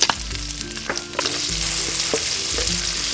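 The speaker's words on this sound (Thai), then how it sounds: "ขั้นตอนแรกตั้งกระทะใส่น้ำมันลงไปนิดนึงพอนะคะ นี่ก็ตามด้วยกระเทียมกับพริกค่ะ" Garlic and chili sizzling in a little oil in a frying pan, a steady crackling fry with occasional stirring clinks, close and continuous.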